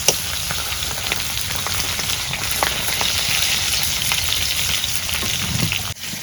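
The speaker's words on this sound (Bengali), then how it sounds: "এমনি তেল দিয়ে মাছগুলা ভাজা নিই" Rupchanda fish pieces frying in oil, a loud, dense, continuous sizzle and crackle close up, steady across the whole stretch with small pops and a brief dip near the end.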